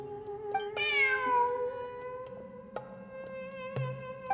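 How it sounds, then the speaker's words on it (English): A cat meows in Genshin Impact, a drawn-out rising and falling cry near the start over a steady game music backdrop with soft tonal chimes, fairly quiet and alone without talk. "Look! A cat!"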